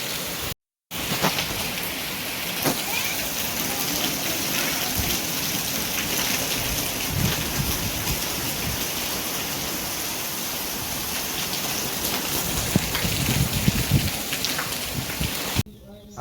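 Steady heavy rain pours down in a rural Gujarati setting near buffalo, a dense continuous hiss filling the scene from start to finish, with a brief gap near the start and voices faintly under the downpour.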